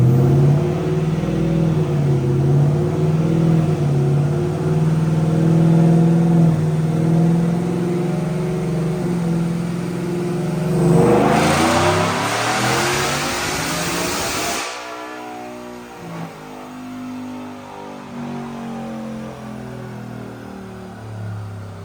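Whipple Stage 2 supercharged 5.0 V8 in a 2025 Ford F-150 with stainless long tube headers, making a loud dyno pull: a steady rising drone climbs to a screaming peak, then cuts off into a crackling, burbling idle-down.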